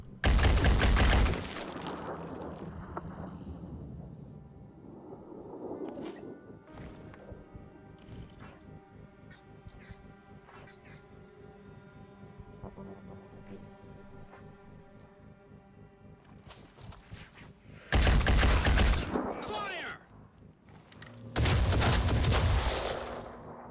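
Bursts of gunfire in the tactical game Phoenix Point, loud volleys at the start and two more heavy bursts near the end, separated by a long quieter stretch of low ambient music and mechanical hum.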